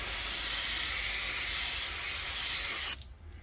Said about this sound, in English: we are going to just spray off this hub here